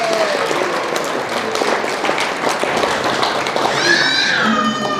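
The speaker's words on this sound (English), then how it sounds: "give a big clap to Prabhu" An audience claps for Prabhu at a Hare Krishna talk, mixed clapping and crowd noise throughout, with a voice rising over it near the end.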